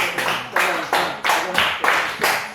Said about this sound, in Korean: 짜잔 박수 열 번 시작